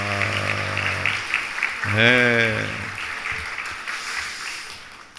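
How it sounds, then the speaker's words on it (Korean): A church congregation breaks into applause for the children in the service, a broad wash of clapping that follows a short spoken word and continues steadily, then gradually thins. "우리 옆에 앞에 뒤에 보시면서 큰 박수 하겠습니다"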